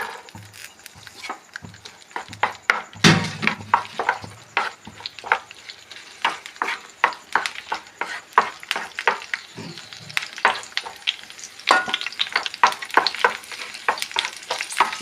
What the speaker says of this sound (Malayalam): അടുപ്പത്തൊരു പാൻ വെച്ചിട്ടുണ്ട്. അതിൽ കുറച്ച് വെളിച്ചെണ്ണ വീഴുന്നു. നമ്മൾ ചെയ്യേണ്ടത് ഈ പച്ചമുളക് ഇതിൽ വാട്ടണം.